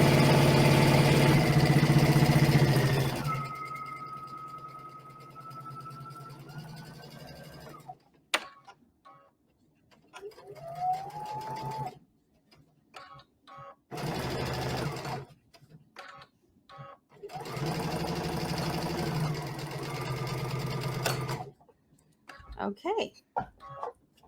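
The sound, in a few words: sewing machine stitching a mini stocking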